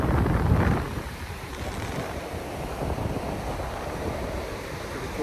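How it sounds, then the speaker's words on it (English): Ocean surf at Malibu gives a broad, continuous wash of waves, mixed with heavy wind buffeting the microphone and a louder gust near the start. "Y'all know I'm right by the ocean."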